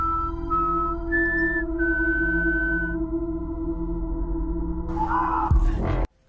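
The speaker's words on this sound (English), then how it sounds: "All we have to do is whistle." Sustained whistling, a few clear held tones stepping between pitches over a steady low hum, ending in a brief rustle and sudden cutoff.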